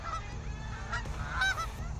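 Geese honk in a scattered series of calls during a September goose hunt in New York, several overlapping honks at moderate distance with no one talking.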